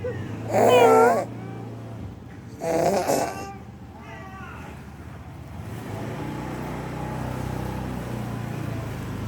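A heartbroken pet cat gives two loud, close, drawn-out meows about two seconds apart, followed by quieter rustling and background noise.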